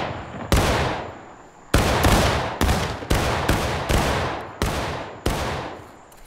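Rifle company volleys in War of Rights: loud, sharp musket discharges crash out in ragged clusters, about eight distinct reports over several seconds, each ringing off into a decaying tail with no talking.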